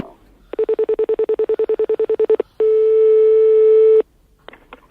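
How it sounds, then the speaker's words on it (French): A telephone busy signal plays as a fast run of about seventeen evenly spaced beeps, followed by a single long steady tone, both loud and close with nothing else over them. "on essayait de vous appeler, mais c'était occupé"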